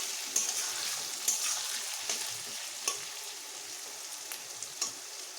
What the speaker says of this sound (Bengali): আলুও ভাজা হবে আমার পেঁয়াজগুলোও ভাজা হবে একসঙ্গে দুটোই ভাজা হবে